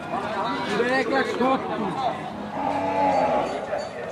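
A cow moos loudly and close at Hazratpur cattle market ahead of Qurbani, its long lowing calls rising over busy crowd chatter and voices of buyers and sellers.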